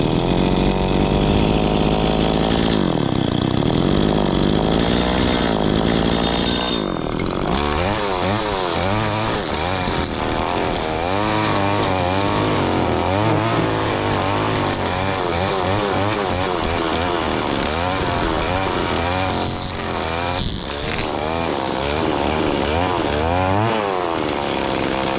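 A STIHL FS80 string trimmer fitted with a Chinese aftermarket carburettor runs loud and close, its two-stroke engine note rising and falling in an uneven, wavering surge while idling, with no voices over it.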